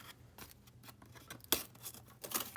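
Scissors snipping through cardboard, trimming an oversized piece of a handmade cardboard bunker model, with several separate close cuts spread across a quiet moment.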